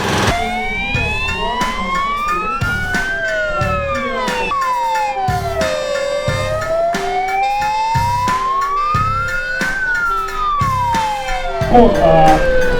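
A fire engine siren wails close and loud as firefighters arrive at a rescue demonstration, its tone sweeping slowly up and down, with horn blasts pulsing in a steady rhythm and brief voices near the end.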